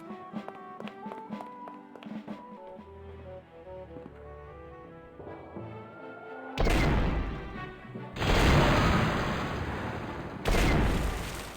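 Cannon fire from a Mr. Massacre brand cannon in The Curse of Monkey Island video game, following quiet plinking tones: a series of loud, broad booming blasts in quick succession, several heavy hits with crashing tails.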